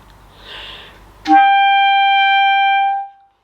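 A single sustained high A on clarinet, steady and clear for about two seconds, following a brief breathy sniff; the tone is pure with strong harmonics.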